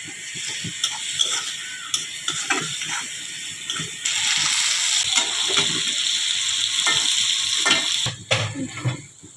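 Bay leaf, cardamom, cinnamon and black pepper frying in hot oil in a pan while crab curry is cooked, a steady close sizzle with small crackles and clinks, rising louder partway through.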